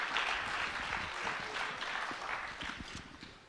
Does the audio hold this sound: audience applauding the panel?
yes